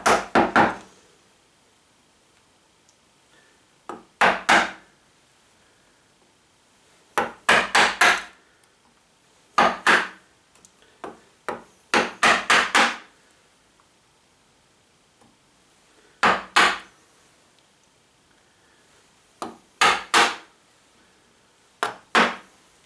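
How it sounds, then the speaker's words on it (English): A quarter-inch chisel pares wood to clean up the corners of hand-cut dovetails, giving short clustered bursts of scraping and tapping that come in irregular groups with quiet gaps between them and no talk. "we're going to get this in here with that 1/4-inch chisel, and we're going to get in there and really clean up those corners."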